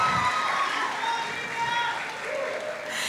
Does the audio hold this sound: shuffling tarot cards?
no